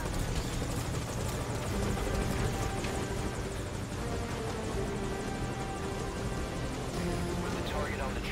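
Close, loud helicopter in Metal Gear Solid Ground Zeroes, its rotor chop and engine whine droning steadily without a break, no voices over it.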